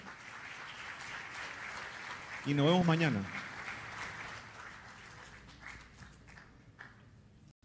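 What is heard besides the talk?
audience applause for speaker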